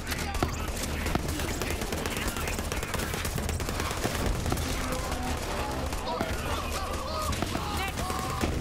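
Rapid SMG gunfire in the video game Borderlands 3, fairly quiet and steady with dense automatic bursts running throughout and someone talking over it.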